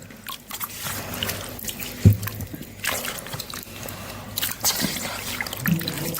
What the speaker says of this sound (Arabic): نحطهم في المية اللي بتغلي